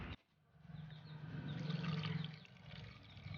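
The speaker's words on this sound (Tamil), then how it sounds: "வேகிறதுக்கு தேவையான அளவு வந்து நம்ம தண்ணி சேர்த்துடலாம்" Water poured into mutton chukka in a cooking pot, a steady splashing rush that swells for about two seconds and then tapers off, close and fairly quiet with no talking.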